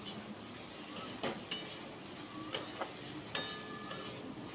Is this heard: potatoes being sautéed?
yes